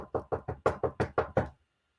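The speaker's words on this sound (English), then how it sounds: "is that somebody at the door?" Eight firm knocks on a door land in a quick, even rhythm close by, then give way to silence.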